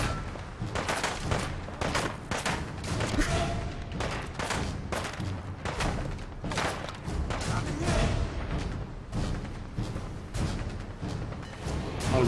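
Dense gunfire in the Fallout 4 video game: rapid overlapping shots and booms crackle on for the whole stretch, loud and close, with a voice speaking briefly.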